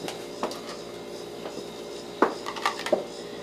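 A bowl being taken out in a kitchen while baking red velvet and key lime cupcakes, with a few light ceramic knocks and clinks against a faint steady hum, the clearest clatter coming in a brief cluster near the end.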